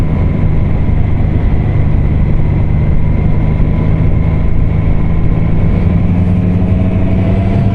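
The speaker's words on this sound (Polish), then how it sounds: "Trochę tych motocykli jedzie." Motorcycles from a group end-of-season ride rumble close by in one loud, continuous engine drone that holds steady throughout with no break.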